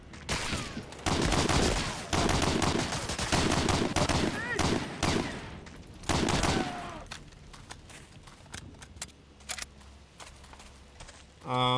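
Automatic rifle fire in Medal of Honor: Allied Assault, loud sustained bursts of rapid shots over the first seven seconds, then scattered shots and softer game noise, with a voice talking over parts of it.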